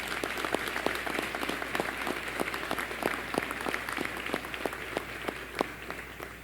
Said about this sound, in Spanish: Vamos a dar un aplauso por la salvación.